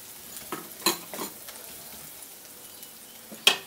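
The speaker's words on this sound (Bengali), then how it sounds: "এখন এটাকে একটু নেড়ে নিয়ে আমি এর মধ্যে বাটা মটরশুঁটিটাকে দিয়ে দেব।" Salt and turmeric stirred into hot oil in a pan for a Bengali mashed green peas dish, with faint sizzling and a few soft scraping strokes and clinks of the spoon against the pan.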